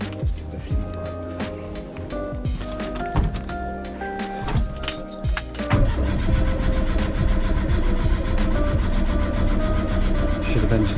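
Starter motor cranking a 1397cc Renault C2J engine swapped into a Renault R8, the motor turning over in repeated bursts with thunks, then a steadier, louder whirring run, close by.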